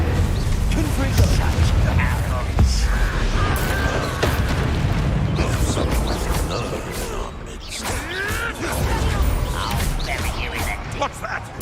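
Confringo blasting spells in the Hogwarts Legacy video game set off repeated booming explosions and crackling bursts through dense, noisy game combat, with a voice speaking over the action.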